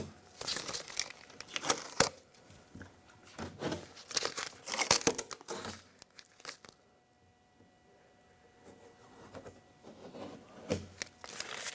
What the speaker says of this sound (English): let's take the tape off of the window.